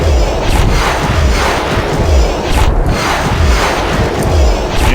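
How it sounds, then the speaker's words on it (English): Anti-fighter beam weapons fire in the Freespace 2 space combat game, a loud, continuous barrage of deep booming thuds and rumbling blasts repeating steadily, with no voices. "now we start the anti-fighter weapons"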